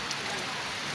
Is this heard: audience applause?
no